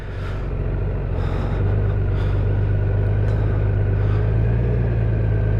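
Honda Goldwing DCT motorcycle idling and creeping along at slow speed in tour mode around a parking lot, a steady low engine rumble that holds even and close throughout with slight swells, no talking.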